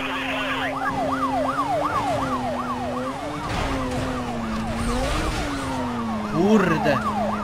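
Police sirens wailing in the Need For Speed Most Wanted 2005 racing game, several overlapping rising-and-falling tones cycling rapidly and steadily under a constant engine drone, loud and close, with a brief sharper burst near the end.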